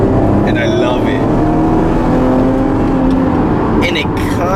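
A 2011 Chevrolet Camaro engine revs hard at high rpm with a supercharger-like whine, loud and close throughout as the car accelerates, while someone talks over it.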